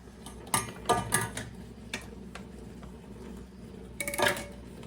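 A metal canning lid and ring clink against a glass jar of apples, making a few quick light taps and rattles up close, then a short cluster of clinks near the end.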